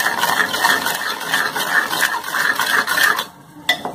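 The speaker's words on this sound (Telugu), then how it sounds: "ఇప్పుడు వీటన్నిటిని ఒకసారి బాగా కలపాలి." A spoon scrapes and clinks steadily against a pan while black salt is stirred into a homemade cough drop mixture. The scraping is close and continuous, with a brief pause near the end.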